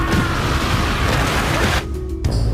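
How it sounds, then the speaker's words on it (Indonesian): A monster explodes in a Kamen Rider Gavv episode: a loud, dense roar of blast noise that runs steadily, then cuts off abruptly before a short, thinner tail. "Saat monster itu meledak"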